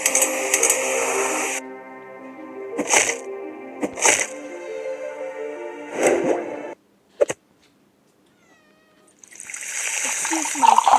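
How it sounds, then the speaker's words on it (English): Several short, loud cat meows break through a steady background of Geometry Dash electronic music and talking, with a brief silent pause before the noise returns. "Excuse my cat."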